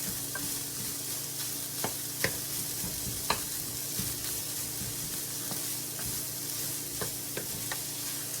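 Sausage, squash and onion mixture sizzling steadily in a pan, with pork cooking down alongside sage and garlic; a constant close frying hiss broken by occasional sharp clicks of a utensil stirring and scraping.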